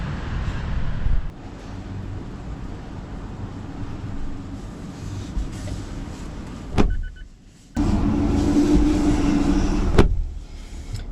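A 2025 Mazda CX-5 Carbon Edition with black wheels drives on roads near Chicago, a steady cabin hum of engine and tyre noise with a couple of sharp clicks and a brief drop in level partway through, no talking.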